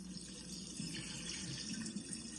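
Rinse water from washing oxtail meat being poured out into a kitchen sink, a steady, close splashing gush of water that runs continuously without a break.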